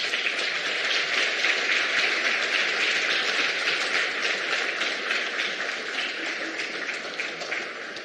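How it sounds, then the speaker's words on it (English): Sustained audience applause at a competition law and economics conference, dense steady clapping that carries evenly for several seconds before easing slightly toward the end. "I think they deserve a round of applause"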